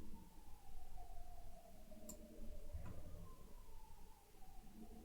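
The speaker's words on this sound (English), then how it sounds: "Do you hear that ambulance that just never stops?" An ambulance siren wails outside at a distance, a faint sustained tone that slowly falls in pitch across the clip under quiet room noise, with a soft tick or knock partway through.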